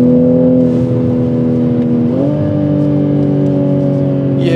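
A Toyota Supra engine of over 300 horsepower drones loudly at steady high revs, pitch climbing briefly then holding flat as it bounces off the 7,000 rpm limiter, close and continuous.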